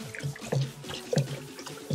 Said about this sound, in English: So now I'm gonna mix this food color also